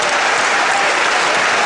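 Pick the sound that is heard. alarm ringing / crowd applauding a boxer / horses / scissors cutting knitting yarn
crowd applauding a boxer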